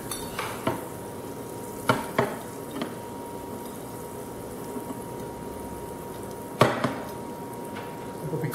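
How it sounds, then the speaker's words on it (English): Butter cooks in a pan for a veal dish with a faint, steady sizzle, broken by several sharp clicks and knocks of a utensil against the cookware, close and fairly quiet. "And we start with cooking some butter."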